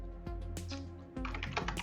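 Clicky computer keyboard keys being typed in short bursts at close range, a quick flurry of taps, a brief pause, then another rapid run of keystrokes, with no voices.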